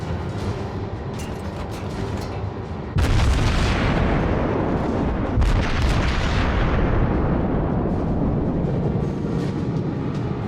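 Warship guns fire in World of Warships with heavy, booming salvos, two big blasts a few seconds apart, each followed by a long rumbling decay over continuous naval battle noise.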